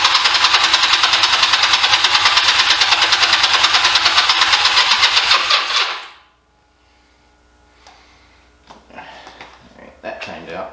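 A 2004 Honda Rebel 250 motorcycle engine cranks loudly and continuously with a rapid, even chugging for about six seconds, then cuts off abruptly, followed by quiet rustling and a few small knocks.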